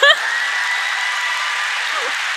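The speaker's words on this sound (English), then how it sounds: "You can clap if you want to." An audience at a Rise 2019 talk gives a steady wash of applause. The clapping holds at an even level throughout after a brief vocal sound at the start.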